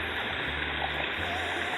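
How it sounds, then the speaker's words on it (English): Water flows steadily down a stream in a rocky gulch, fed by seepage or a spring, a constant close rushing and gurgling with no voices. "all of a sudden we could hear water flowing"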